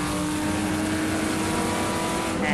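Spec Boxster race cars and a pace car at Watkins Glen make a loud, continuous engine drone as the field rolls up from the boot, with steady mechanical hum and no voices.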